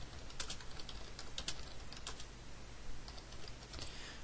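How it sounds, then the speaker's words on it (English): Quiet, quick tapping of keys on a computer keyboard, irregular bursts of clicks with short pauses, close by. "I have to excuse my typing"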